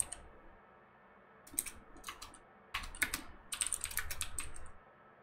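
Computer keyboard typing in short clattering bursts, quiet at first, then denser rapid keystrokes in two clusters, fairly close and clear with no voices.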